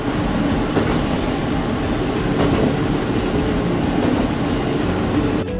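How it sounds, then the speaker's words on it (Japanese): A Niseko limited express train rolls along the rails past a residential area on the mountain line toward Sapporo, giving a steady, close rumble with faint rhythmic wheel clatter that holds evenly throughout. "列車は少しずつ住宅街の横を走り始めます。"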